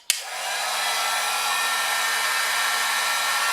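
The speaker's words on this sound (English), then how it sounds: "So to use a heat gun, you just put the heat gun on the high setting" A heat gun switched on at its high setting whooshes up after a sharp click and then blows steadily with a constant airy roar and a faint motor hum underneath, close and loud throughout.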